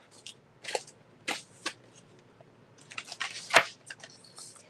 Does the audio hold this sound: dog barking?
no